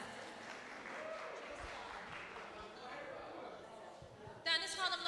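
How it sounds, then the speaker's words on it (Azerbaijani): Guests at a birthday gathering applaud, with moderate clapping and murmuring under a voice speaking. A brief louder burst comes near the end. "Ürəkdən alqış istəyirəm sizdən."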